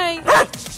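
A dog gives a single short, loud bark close by, set against quiet background sound in a town setting in Kristiansand, Norway.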